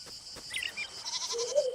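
Sheep in the farming video game Moonlight Peaks bleat in a short, thin, wavering call over a quiet, high ambient tone, with no talking.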